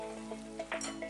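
Curd is stirred into a mash in a pan over heat, with soft sizzling and a few quick stirring scrapes in a short, faint burst.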